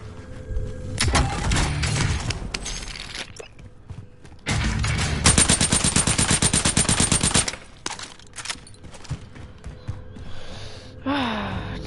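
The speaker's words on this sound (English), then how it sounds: "Satisfying, just shooting the entire mag." Sustained machine gun fire in a video game, a long rapid burst emptying a full magazine, loud and close, with shorter bursts before it and a sharp whistling tail at the end.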